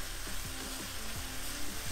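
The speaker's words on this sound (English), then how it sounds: "So this has been cooking for about 10 minutes altogether now." Curry sauce that has been cooking about ten minutes sizzles and bubbles steadily in a pan, a soft, continuous frying hiss with faint stirring and no voices.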